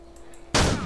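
An AK rifle fires in the video game MTA DayZ, a single sudden loud gunshot blast that follows a quiet moment and then decays.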